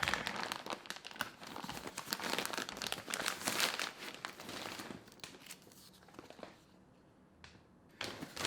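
Packaging around a Peak Design 45L travel backpack being torn open, a close, continuous crinkling and ripping of plastic wrap that thins out and quiets near the end.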